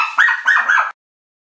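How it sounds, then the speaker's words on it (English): Several dogs barking indoors, three quick close yaps in a short burst and then silence. "Oh, our dogs are barking."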